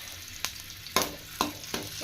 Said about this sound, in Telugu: అల్లం ముక్కలు కొంచెం ఫ్రై చేసుకుందామండి.